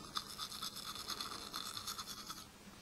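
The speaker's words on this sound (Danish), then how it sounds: "Man kommer helt ned og børst på tandkødet." Soft, close scrubbing of a toothbrush on a child's teeth and gums, quick back-and-forth strokes repeating steadily and faintly for almost three seconds.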